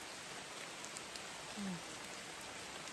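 Heavy tropical rainforest rain pours down during a storm in a steady, dense hiss that stays close and unbroken, with a brief faint voice-like sound partway through.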